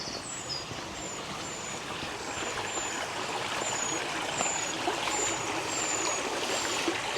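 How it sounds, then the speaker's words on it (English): Water flows steadily in a stream beside a canal sluice gate on the Stover Canal, a continuous close rushing trickle with faint bird chirps above it. "I can definitely hear water."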